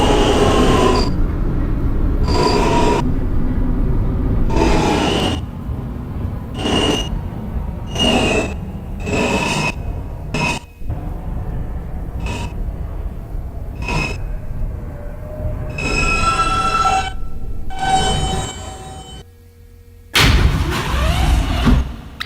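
F subway train running as a Culver Express on the Brooklyn line, loud steady rumble and rattling wheels with repeated clacks over rail joints, metallic squeals, and a short near-silent pause before the noise surges again.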